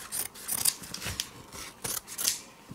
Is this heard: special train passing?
no